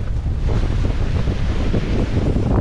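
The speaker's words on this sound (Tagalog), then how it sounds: "ang lakas pa ng alon tapos ang hangin" Heavy waves crash and churn at sea under strong gusting wind that buffets the microphone, a loud, unbroken roar with no one talking.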